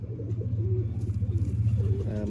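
Pigeons in a breeder's loft coo in a steady, pulsing stream of deep, rolling calls, close and continuous, with a faint voice in the background.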